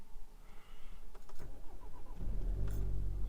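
A cold VW Golf R being started on a chilly day: a brief starter whirr, then the engine catches and settles into a loud, steady low idle.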